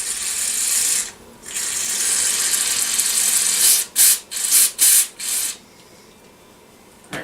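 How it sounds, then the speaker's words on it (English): Carb cleaner hisses from a spray can through the carburetor of a 1957 Evinrude 3 horsepower outboard, first in one long steady burst and then in several short sharp blasts. "Spray some carb cleaner and it should blow out the holes then."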